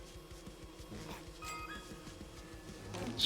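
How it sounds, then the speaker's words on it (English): Bees buzzing in the survival game Don't Starve Together, a steady insect drone over rhythmic low game sounds, with no talking. "I think these might be my own bees"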